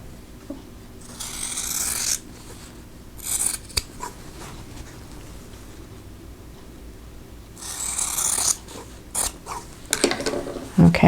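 Scissors trim fabric pieces for a Kansas Star quilt block, with several crisp snipping bursts between quiet stretches, close and clear, and no talking.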